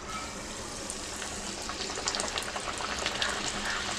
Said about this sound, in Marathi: तेल तापलं आहे, फापडा सोडूया।